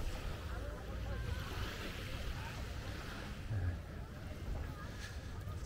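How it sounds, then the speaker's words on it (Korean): A speedboat runs off Chaweng Beach on Koh Samui, its steady motor drone blended with the constant wash of surf and sea wind across the whole stretch, moderately distant and unbroken. "자, 스피드보트고요."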